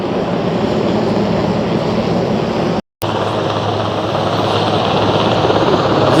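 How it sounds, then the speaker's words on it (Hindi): Presidential helicopter landing in New York, a loud, steady rotor and engine roar that holds constant throughout, close by and unbroken apart from one brief cut. "ये वाला है प्रेसिडेंट का जहाज"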